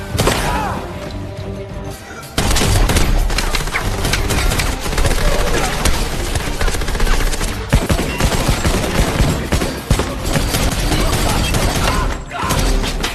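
Heavy 12-gauge shotgun fire from a fight scene in John Wick: Chapter 3, loud blasts and rapid bursts crashing over mechanical clatter and impacts, with a brief lull before the barrage resumes and continues to the end.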